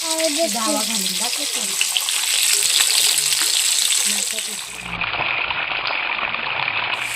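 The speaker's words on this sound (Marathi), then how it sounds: "कडक कडक फ्राय बनवणार आहे आपण आज" Chilapi fish frying crispy in a hot pan, a steady loud sizzle and crackle close up, with brief talk near the start.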